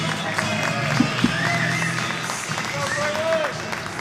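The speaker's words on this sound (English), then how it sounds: "Have a round of applause for our top 8 finishers, girls 10 under 50-yard backstroke." Applause for the top eight finishers of a girls 10-and-under 50-yard backstroke at an indoor swim meet, steady scattered clapping from a crowd, with a couple of sharper claps and a whistle, under ongoing chatter and talk.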